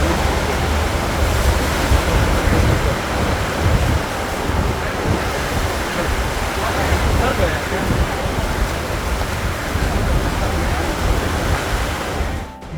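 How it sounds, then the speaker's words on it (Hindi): Sea waves surging steadily against the rocky shore at Kovalam Beach in Kerala, a continuous loud wash of surf mixed with wind noise on the microphone, with no pause over the whole stretch. "समुद्र की लहरें लगातार लड़ने की कोशिश कर रही थी"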